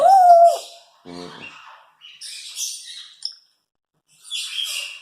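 A koel calls with a loud, close, rising whistled note, followed by a few scattered breathy chirps and squawks with short silences between them.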